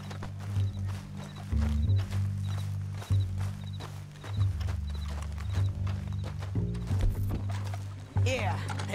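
Horse hooves clip-clop in Red Dead Redemption 2, a rhythmic trot of hoofbeats beneath a loud low music or engine-like drone, with a sharper burst near the end.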